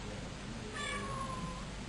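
A domestic cat gives a single short, faint meow, rising then trailing off, over a quiet background hiss.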